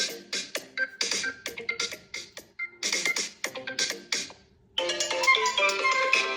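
A ringtone melody played through the single built-in speaker of a Redmi A5 phone, a bright tune of quick repeated notes, close and alone.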